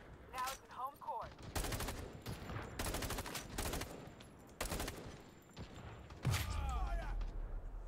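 Gunfire in a team battle video game comes in repeated rapid bursts of automatic fire, loud and close, with short gaps between volleys, while someone talks over it.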